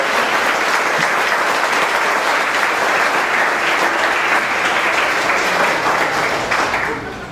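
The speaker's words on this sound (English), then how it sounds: "Yes, please applaud those beautiful vows." Wedding guests applaud after the couple's vows at a ceremony, a dense, steady wash of clapping that holds for about seven seconds before tapering off at the end.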